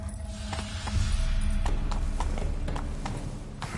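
A horse's hooves clip-clop at a steady trot in The Witcher 3: Wild Hunt on PS5, rhythmic muffled thuds over a low ambient game soundscape, fairly quiet and close.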